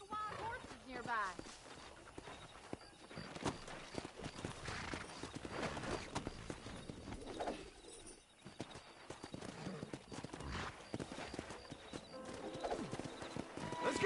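Rapid clip-clop of galloping horses in Red Dead Redemption with an occasional whinny, loud and busy, mixed with voices talking over the hoofbeats.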